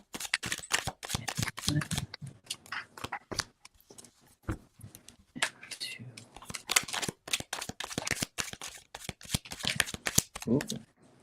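Tarot cards being shuffled by hand: a long run of brisk, crisp riffling bursts in irregular rhythm, close and fairly loud, with people talking over them.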